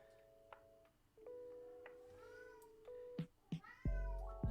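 A pet cat meows several times at close range, with short calls spread across a quiet room amid faint chirps and ticks, the last cry longer and louder.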